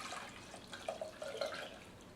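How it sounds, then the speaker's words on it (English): Juice from a Greenstar Pro juicer is poured into a glass cup, giving faint liquid trickling and a few soft dripping plinks over about two seconds. "So we're just going to go ahead and pour this off here."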